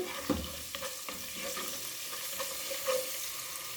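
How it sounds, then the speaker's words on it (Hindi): Quiet frying with a steady soft sizzle of spice paste with ginger-garlic paste in a pan, broken by occasional scraping taps of a utensil stirring. "इसको भी हम थोड़ा सा भून लेंगे मसाले को।"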